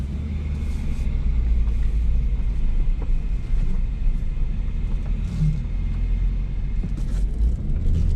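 Steady low rumble of an Alpina B5 S Touring E61 estate on the road, its engine and tyre drone filling the cabin continuously and fairly loud, with no talk.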